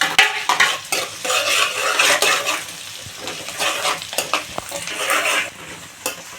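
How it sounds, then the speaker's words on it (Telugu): Green chilies frying with onions in a pan for a dried-prawn curry, with steady sizzling and repeated clinks and scrapes of a spoon stirring against the metal pan. "ఫ్రై అయిపోయిన తర్వాత పచ్చిమిర్చి కూడా వేసేసుకున్నాను"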